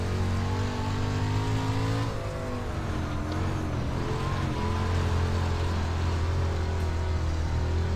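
A race car engine in the iRacing video game at Limaland track strains and revs at high pitch, its tone shifting as it accelerates off a corner, loud and continuous.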